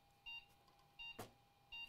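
Motherboard error beeps, three short, evenly spaced and quiet, signalling an undetected RTX A2000 video card, with a single sharp click between the second and third.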